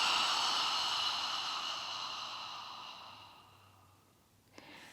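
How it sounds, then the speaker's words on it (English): A slow, steady exhaling breath during a gentle stretching exercise for the SI joint, close and soft, fading gradually over several seconds and ending with a faint click. "Exhaling."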